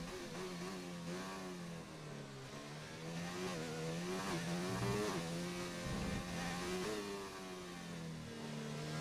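A race vehicle on a flying lap at a Spanish circuit, its engine revving hard with rising and falling pitch through the gears. The sound is steady and fairly faint, like onboard or trackside audio, with no talk.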